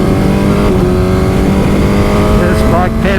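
A Suzuki GSX-S1000 motorcycle engine is revved hard under heavy throttle, giving a loud, continuous, buzzing roar whose pitch climbs and warbles toward the end.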